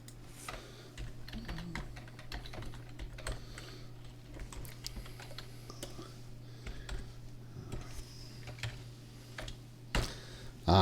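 Numbers are typed on a computer keyboard as sparse, irregular clicks and taps, fairly quiet and close, with faint background murmur and a louder knock at the very end.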